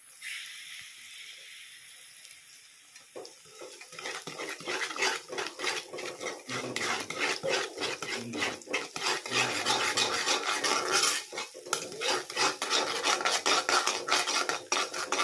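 Egg bhurji with browned onion being stirred in a pan, a spatula scraping and rasping in quick repeated strokes that grow louder and busier after a quieter sizzling start, close up with no speech.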